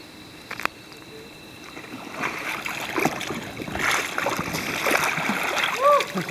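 Kayak sculling roll with a Greenland paddle in an indoor pool, water swirling and splashing in a steady wash that builds toward the end, with faint voices in the background.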